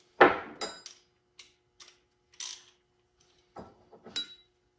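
Socket wrench tightening the bolts on a John Deere power integral sleeve hitch during assembly: a handful of faint, scattered metallic clicks and clinks, close by with quiet gaps between them.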